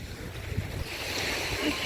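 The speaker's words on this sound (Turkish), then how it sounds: "Evet arkadaşlar gerçekten deniz çok güzel." Steady rush of waves breaking on the shore at Kumbağ beach in Tekirdağ, loud and continuous with wind buffeting the microphone, no voices over it.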